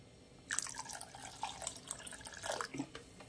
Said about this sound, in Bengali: আর দেবো একটু সামান্য পরিমাণে জল